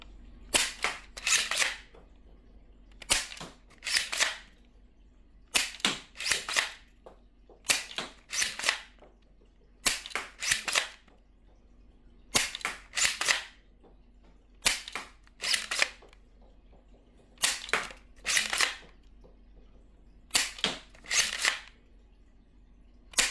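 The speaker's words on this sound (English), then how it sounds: "We got first up a mag of Worker Gen 3 standard weight darts. And we shall begin the firing demo." A Leedle Dynamics Lanka 2 Nerf blaster fires Worker Gen 3 standard-weight darts, making sharp close snapping shots in quick pairs and small clusters with short pauses, repeated through a full magazine.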